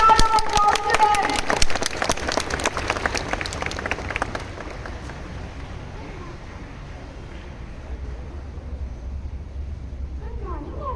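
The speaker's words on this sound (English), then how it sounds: "Please give a big round of applause to them." An audience claps at a school assembly, with dense, loud applause at the start that thins out over a few seconds and fades into quiet room noise, with faint background chatter near the end.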